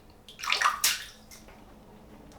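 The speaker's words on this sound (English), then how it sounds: "Get the brush wet." A shaving brush is wetted under running water before lathering, a short splashing gush swelling and then tapering to a faint trickle, close by with no talking.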